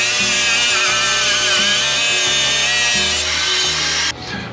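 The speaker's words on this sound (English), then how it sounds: "let's go ahead and put it on the saw and see how well it cuts" A diamond-blade wet saw cuts porcelain tile, a loud, close, sustained whine with rhythmic grinding pulses as the blade works through, then it cuts off abruptly near the end.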